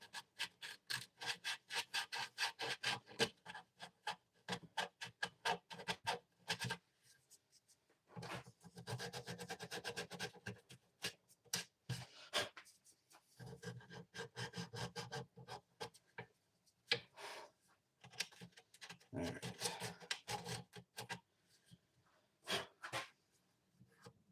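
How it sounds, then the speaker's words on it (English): Hand sanding of wood produces a continuous run of close, scratchy back-and-forth strokes in quick rhythm, with brief pauses and no speech. "So, just gonna see if I can sand in here a little."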